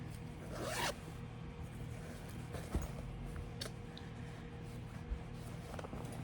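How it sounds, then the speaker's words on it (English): Clothing zipper pulled open once in a quick rasping burst near the start, followed by quieter handling rustles and faint clicks in an indoor room, with no talking. "there will be zippers"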